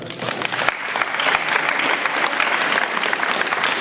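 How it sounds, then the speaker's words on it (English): A school prom audience at a mentalism show claps in a strong, sustained round of applause, the many hands filling the room evenly for nearly four seconds. "Everybody give Taylor a round of applause"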